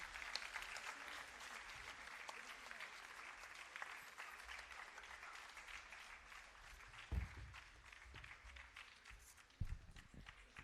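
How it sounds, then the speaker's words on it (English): An audience at a Bharatanatyam arangetram applauds continuously with dense, sustained clapping that sounds somewhat distant and fills the whole stretch, with a couple of louder thumps along the way. "Let's have a big round of applause for all of them."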